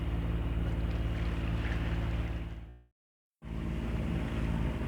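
A sailboat under way through Inch Sound in Scotland, with steady broadband wind and water rush close to the microphone, briefly dropping to silence midway before resuming at the same level.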